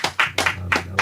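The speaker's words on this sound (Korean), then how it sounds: "우리 하나님께 영광의 박수 올려드립니다" A few distinct hand claps from a church congregation during a Korean Sunday service, sounding as about five separate sharp claps at a steady, unhurried pace over a low steady hum.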